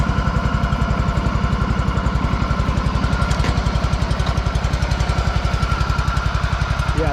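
A John Deere Hydro 165 lawn tractor engine idles at low RPM, a steady, close, even throbbing pulse running without pause and alone, with no talk over it.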